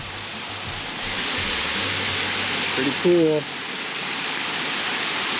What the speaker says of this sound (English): have a little waterfall right there